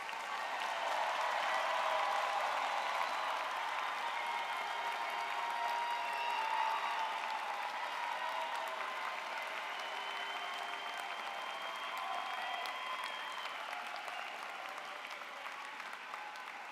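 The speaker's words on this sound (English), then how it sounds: "a round of applause now for all of our graduates" Steady, dense applause from a large audience honors graduates at a university social work spring commencement ceremony. It holds evenly for about seventeen seconds without pause.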